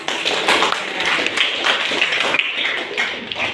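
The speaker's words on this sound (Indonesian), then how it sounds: "Kasih aplaus untuk Grace" A classroom of pupils claps for a classmate named Grace: dense, fast, overlapping hand claps sustained at a fairly even level throughout.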